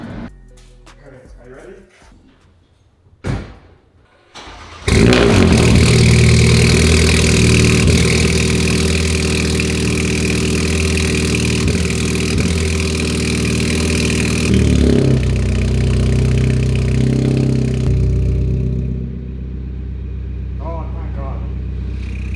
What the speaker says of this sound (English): let's just put the car down and finally get a cold start with no back box and no cap